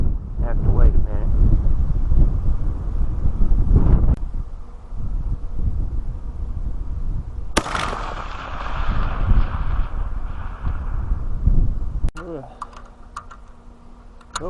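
Strong gusty wind whips across the microphone at an outdoor rifle shooting range, a steady rushing roar with buffeting, interrupted by a few brief sharp clicks and bumps.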